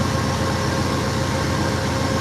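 An Amtrak California Zephyr passenger train stands at the Ottumwa, Iowa station, giving off a loud, steady rumble and mechanical drone with no breaks.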